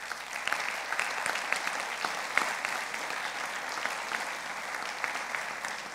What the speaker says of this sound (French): Merci Dominique Pont, on vous applaudit.